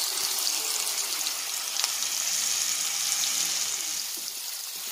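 Tomatoes sauté in a pan for dal curry, giving a steady, soft sizzle and hiss that stays even throughout, with no talk over it.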